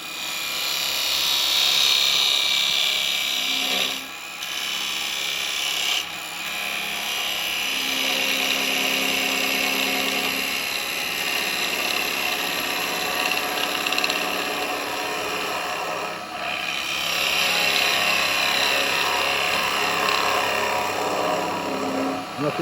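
Purple Heart wood spinning on a lathe while a chisel cuts into it for a small tea light holder: a continuous close whirring, scraping hiss that swells and eases as the cut is picked up, with a voice talking over it.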